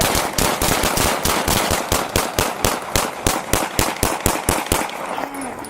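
Rapid burst of gunshots during a police encounter, a long steady string of sharp, loud reports at a fast even rhythm, tapering slightly near the end.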